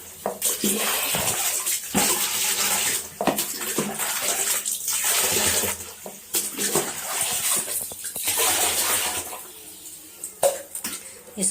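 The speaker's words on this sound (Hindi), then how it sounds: "फिर छन्नी में से पानी चला जाएगा नाली में" Water runs steadily through a strainer into a drain while washing, a continuous splashing rush with faint clinks of dishes in between.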